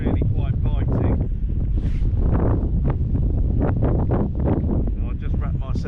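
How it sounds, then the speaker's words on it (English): Cold, biting wind roars against the microphone outdoors by the water at a carp fishing lake, a constant loud buffeting broken by brief flutters and knocks. "The wind is really quite biting."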